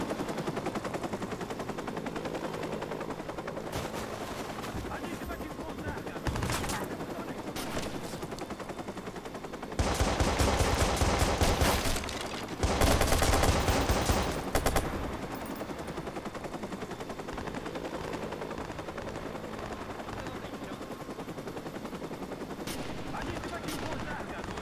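Unsilenced gunfire in the video game Watch Dogs, with bursts of automatic shots; two long, loud volleys stand out against a steadier background of scattered firing, while a voice speaks intermittently.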